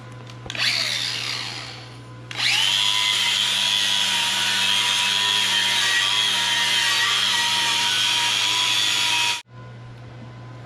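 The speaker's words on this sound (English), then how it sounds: "get the grinder" A power grinder working on a fresh weld: a short whine, then a long loud continuous high-pitched grinding that runs close and steady before cutting off abruptly.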